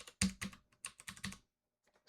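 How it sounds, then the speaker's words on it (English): Someone types on a computer keyboard in a quick burst of clustered keystrokes, close and clear, then falls quiet with only a couple of faint taps near the end. "So I'll start typing the first point, point A"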